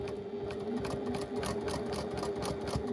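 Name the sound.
sewing machine stitching a quilt block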